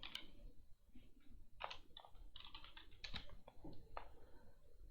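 Keys clatter on a computer keyboard in quick irregular bursts as a command is typed at a Windows 11 command prompt, close and quiet, with no talking.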